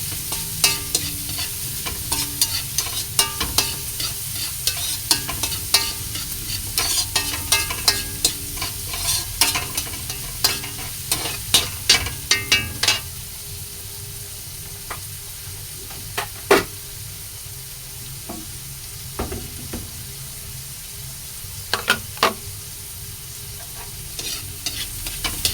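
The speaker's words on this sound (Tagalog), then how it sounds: "Haluin lang natin." Menudillo with egg being stirred in a frying pan, a steady close sizzle under repeated scraping strokes of a utensil against the pan, busier in the first half and sparser later.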